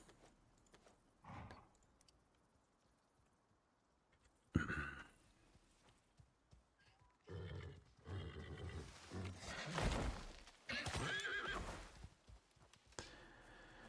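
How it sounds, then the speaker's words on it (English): A horse in the survival game Icarus neighs and stamps in bursts of loud, rough calls and thuds over the second half, after a quiet stretch with faint movement. "And up comes a bleeding horse."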